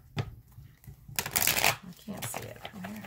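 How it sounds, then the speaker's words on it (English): A tarot deck is shuffled by hand in several bursts of riffling and flapping cards, close and crisp, with a quiet voice murmuring between the shuffles. "Why are these cards not shuffling very well?"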